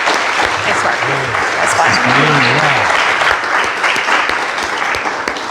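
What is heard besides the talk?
audience applauding the candidates at a forum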